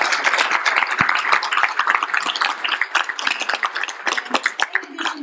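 Individual hand claps from a modest audience at a kidney foundation awards evening patter unevenly, their separate strikes audible and pulsing in strength for about five seconds.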